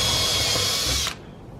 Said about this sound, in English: I just drill a pilot hole first and then go in with a bigger drill bit